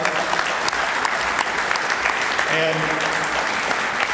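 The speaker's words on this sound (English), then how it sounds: "So let's give Charles a round of applause." Sustained applause fills a sports hall of fame dinner, a dense steady clapping from a large seated crowd, with a brief spoken word and faint tones rising near the end.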